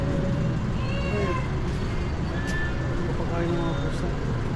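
Several cats meowing at a street stop where they are being fed, thin rising and falling cries scattered over a busy roadside din of passing traffic, with people talking nearby.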